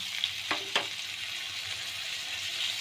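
Cauliflower curry masala with coriander-cumin powder, sour curd, ginger paste and chopped tomato sizzling in a pan, with a steady hiss and two sharp spoon scrapes near the start.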